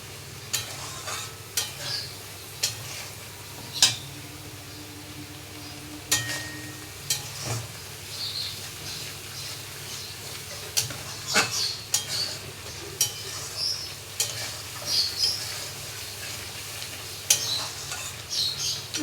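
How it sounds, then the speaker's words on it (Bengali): Raw banana kofta masala sautéed with a splash of water: steady clinks and scrapes of a spoon against the pan over a low simmering sizzle, repeated through the whole stretch at close range. "বাটি ধুয়ে সামান্য পরিমাণে জল দিয়ে দেবো দিয়ে এটাকে কষবো আমি"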